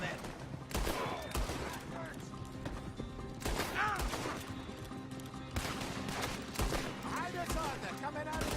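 Repeated gunshots crack through a shootout in Red Dead Redemption 2, with bursts of fire landing at irregular intervals over roughly eight seconds. Voices speak between and over the shots.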